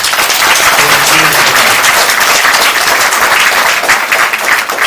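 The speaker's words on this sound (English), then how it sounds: "So how about a big round of applause?" A big, loud round of applause for a new chapter leader at a UCI alumni reunion, dense steady clapping from a crowd that fills the whole stretch without pause.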